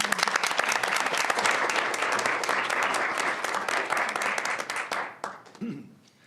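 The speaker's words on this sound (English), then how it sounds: "I think we should give him a round of applause" Dense, loud applause from attendees at a school district board meeting, sustained for several seconds before thinning out and fading, with a brief voice at the very end.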